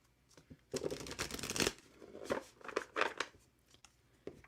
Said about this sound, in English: I am doing some shuffling.